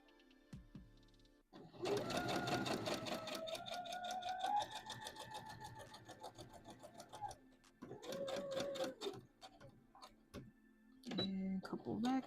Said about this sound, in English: And a couple back stitches to lock us in.